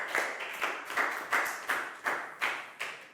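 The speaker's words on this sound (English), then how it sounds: "Big round of applause for Pak Bung." Classroom applause for a student in a Year 4 science lesson: a small group clapping in a regular, even rhythm, about three claps per second, moderately close and fairly quiet, with no talking.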